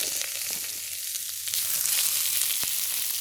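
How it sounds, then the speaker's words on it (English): Onions frying in a pan for a shrimp curry stir fry alongside garlic and chopped ginger, giving a loud, close, continuous sizzle with a few sharp crackles and pops, no talking. "we're gonna put the onions in there"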